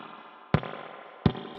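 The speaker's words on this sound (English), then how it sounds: "If I just tap the strings at the back of the pickups," Guitar strings tapped behind the pickups feed a Boss Katana amp's spring reverb: two sharp, distinct taps, each one followed by a drippy, watery reverb tail that rings on between them.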